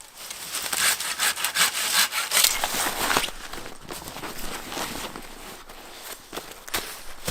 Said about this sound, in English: I'm gonna take down all the dead underbranches from this tree.